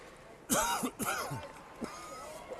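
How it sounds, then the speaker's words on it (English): A few sharp coughs close to the mic, two quick ones followed by a fainter third, with quiet room tone between them. "Hope I'm not coughing too loud"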